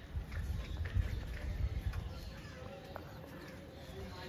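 Young pigeons kept for sale give faint, low, soft coos in the first two seconds, then a quieter stretch of background hush.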